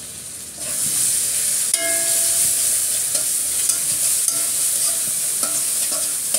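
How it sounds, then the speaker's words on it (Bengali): Ginger-garlic paste fries with softened onions in a pan as they are stirred. A steady, close sizzle and hiss runs throughout, broken by occasional scraping stirs, with no talking. "পেঁয়াজটা একটু নরম হয়ে গেলে এখানে আমি 2 চামচ আদা রসুনের পেস্ট দিয়ে দিলাম।"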